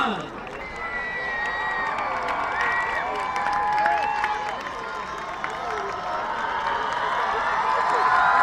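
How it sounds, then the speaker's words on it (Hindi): Outdoor crowd in Bathinda applauding and cheering after a fighter jet aerobatic display's perfect landing; a broad sustained roar of clapping and cheers, with a high whine rising near the end. "परफेक्ट लैंडिंग जोरदार तालियां"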